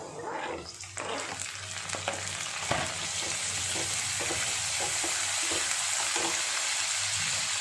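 Onions and tomato fry in a pan for a flat bean and dried coconut stir-fry, giving a steady close sizzle throughout with occasional scraping stirs and clinks.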